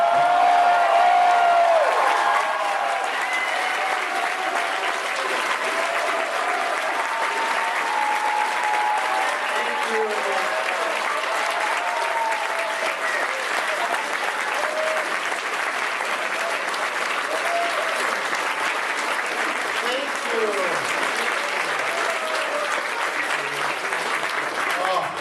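A convention panel crowd at TFcon 2016 in Toronto gives Frank Welker a long standing ovation, with continuous loud clapping and scattered voices and cheers mixed in throughout.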